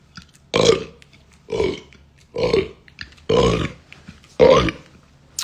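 Five loud, deep burps in a row, each about half a second long, evenly spaced with short quiet gaps between them.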